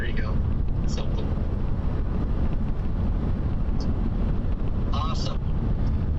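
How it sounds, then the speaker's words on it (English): Gusty wind roars and buffets a microphone outdoors during a Nebraska storm chase under a tornado threat, a steady loud rumble with brief faint voices mixed in. "I'm feeling the gusty winds now."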